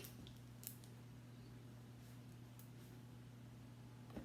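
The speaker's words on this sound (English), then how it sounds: "You need your trusty kitchen scissors." A few quick snips of kitchen scissors cut through something soft, brief and faint over a steady low electrical hum.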